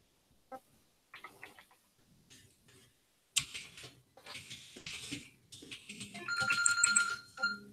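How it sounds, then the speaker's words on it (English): A phone ringtone rings indoors during a gaming chat, rising as a bright, steady electronic trill over scattered clatter in the final seconds, fairly loud and close. "Ah, shut up, phone."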